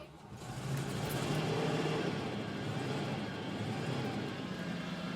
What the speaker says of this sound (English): Let me start the car here.